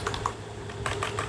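Quick keystrokes on a computer keyboard while a command is entered into GeoGebra, a short burst of light, close taps against a low background hum.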